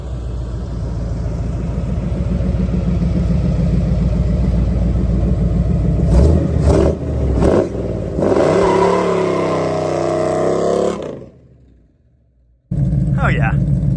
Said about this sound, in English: Yeah, that's right, burnouts, obviously.